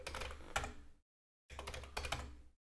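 Typing a program line on a Commodore 64 keyboard, with two short bursts of rapid, close key clacks separated by a brief silence.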